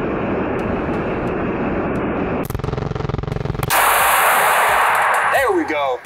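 Fully automatic gun fire in a rapid burst of closely spaced shots, loud and near, set between steady broadband background noise and a shift to a different outdoor ambience afterward.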